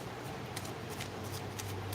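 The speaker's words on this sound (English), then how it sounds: "I'm shuffling. I'm shuffling," Tarot cards being shuffled by hand at close range in a quick run of soft riffling bursts over a low background hum.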